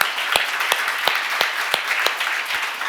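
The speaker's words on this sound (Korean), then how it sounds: "박수 한번 쳐요 그분에게" A church congregation applauds at a Korean seminar service, giving a brief burst of scattered hand claps with a few sharp, distinct claps standing out over a steady wash of clapping.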